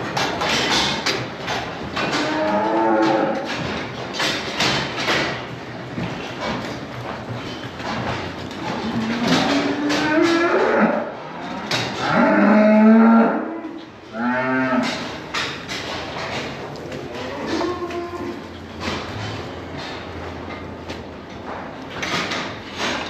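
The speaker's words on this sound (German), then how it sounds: "Und jetzt kommen nämlich auch die etwas verschlafeneren Kühe noch in die Gänge da hinten." Cows mooing repeatedly in a barn at morning feeding time, drawn-out lowing calls overlapping near and farther back, with rattling and clanking of stalls underneath.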